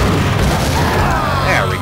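A grenade goes off in Max Payne with a loud, dense blast and a rolling rumble that fills the whole moment, close and overpowering.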